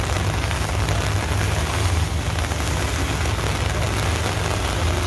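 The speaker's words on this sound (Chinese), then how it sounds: "好卵大雨啊！" Heavy rain pours down on a street in Cheung Sha Wan, Hong Kong, a dense, constant roar of drops over a low traffic rumble, loud and close throughout.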